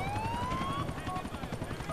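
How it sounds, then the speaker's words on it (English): Helicopter in a video game, a steady rotor drone with siren-like rising tones layered over it, loud and continuous, with other game sounds mixed in. "time for a helicopter"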